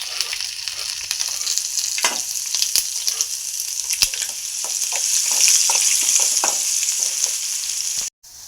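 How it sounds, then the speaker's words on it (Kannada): Mustard seeds, onion and curry leaves frying in hot oil, a steady sizzle with sharp popping crackles scattered throughout, close and fairly loud, ending in a sudden brief cutoff near the end. "ಸ್ವಲ್ಪ ಸಾಸಿವೆ ಹಾಕಿ ಚಟಪಟ ಅಂದಮೇಲೆ ಉಳ್ಳಾಗಡ್ಡಿ ಕರಿಬೇವು ಸೇರಿಸ್ಬೇಕು ನೋಡ್ರಿ."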